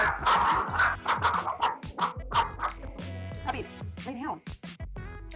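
A puppy barks and whimpers in quick, loud, close yips and whines that come in a dense run, with a voice speaking among the yelps.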